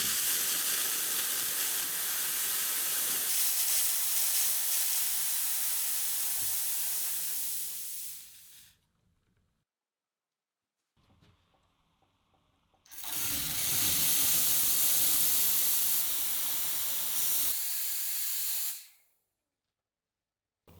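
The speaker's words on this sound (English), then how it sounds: "you're gonna get more water coming out when you're clearing the steam wand when you first turn it on" Loud, steady steam hissing from an espresso machine steam wand being cleared as it is first turned on runs for several seconds, stops, then a quieter watery sputter follows before the hiss blasts again and cuts off.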